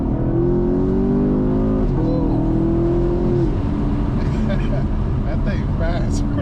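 A Camaro racing, either a 1989 Camaro Z28 or a 2017 Camaro SS, with a loud sustained engine roar that climbs in pitch and then levels off as it pulls away, heard from up close with people talking over it.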